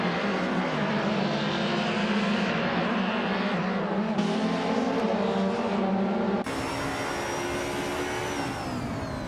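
Racing car engines in a racing video game with a 1991 Nissan Primera P10 in a touring car class: steady, loud droning engine whine with shifting pitch, running continuously without talk.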